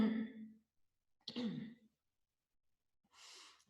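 Throat clearing and coughing after a breathing exercise: two short rough bursts of throat noise close to the mic, a pause, then a breathy exhale or sigh.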